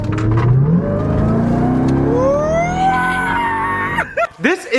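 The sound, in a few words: custom truck engine revving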